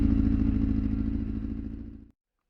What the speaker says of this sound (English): these bikes always sound a little rough to start with, you know, but I can hear that's on 3 cylinders